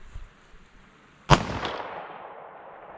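A single .22 DPC rifle shot fired at a target 550 yards away, one sharp loud crack followed by a short decaying rumble, alone in quiet outdoor air.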